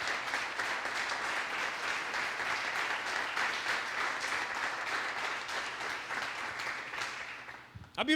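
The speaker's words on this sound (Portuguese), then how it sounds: "Se você recebe isso, aplauda o nome de Jesus sobre a sua vida." Church congregation applauding, a broad wash of clapping that holds steady for several seconds then fades away, moderately quiet and slightly distant, with faint speech mixed in underneath.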